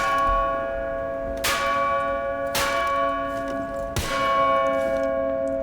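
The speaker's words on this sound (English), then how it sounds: "If you smack the bell," A bell in the Skyscraper map of Rainbow Six Siege is struck three times at steady intervals, each sharp clang ringing out with a long, shimmering metallic decay over a constant low game ambience.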